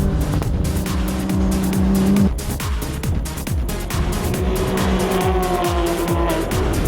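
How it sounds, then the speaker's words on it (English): Onboard a Porsche race car during a road racing championship round, the engine roaring loud and close through gear changes, with bursts of tire squeal through corners. "We're in the cockpit now with Das Rees getting a feel what it's like to be inside that Porsche."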